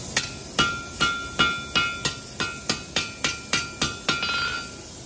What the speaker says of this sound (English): So I'm going to heat the point, heat up very quickly, work it over the edge of the anvil.